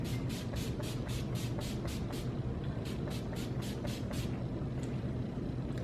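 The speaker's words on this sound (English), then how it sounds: "I'm going to go ahead and apply my setting spray to set everything in place." Makeup setting spray is pumped in a rapid series of about a dozen short hissing bursts, close and evenly spaced, over a low background hum.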